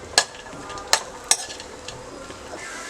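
Dry fruits frying in hot ghee for rice kheer, a steady close sizzle with a few sharp clinks of a spoon against the pan spread across the clip, no talking.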